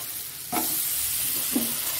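Vegetables including potato, papaya and green chili hit a hot pan and sizzle steadily with a hissing crackle, with a couple of distinct stirring scrapes punctuating the frying noise up close.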